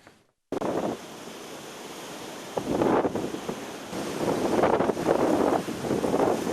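Strong wind buffeting an outdoor microphone near an old maple tree in a Sumy courtyard, a steady roaring rush with louder gusts swelling every second or two, close and loud, no voices.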